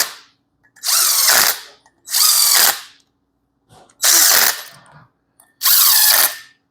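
On a Subaru EJ25 engine, a power tool drives Allen bolts in four short, close bursts of high whirring and ratcheting, each about a second long with quiet gaps between.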